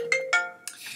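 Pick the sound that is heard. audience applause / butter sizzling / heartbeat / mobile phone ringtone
mobile phone ringtone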